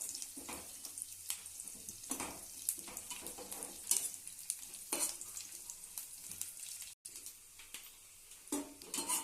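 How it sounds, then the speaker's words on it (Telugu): Dry fruits frying and being stirred in a pan while making semiya kheer, a steady close sizzle broken by repeated scraping stir strokes, with no voices. "మనము తీసుకున్న డ్రై ఫ్రూట్స్ని కూడా అందులో వేసి బాగా వేయించుకోవాలండి"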